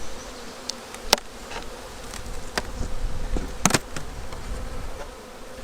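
Honey bees buzz densely around a hive super set up as a mini colony for queen rearing, a close, continuous drone with a couple of sharp clicks from handling.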